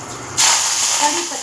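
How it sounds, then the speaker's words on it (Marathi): Asafoetida and cumin hit hot oil with a sudden loud hiss that swells and holds as a steady, close sizzle. "प्रथम तेल गरम झालेलं आहे, त्याच्यात हिंग, जिरं,"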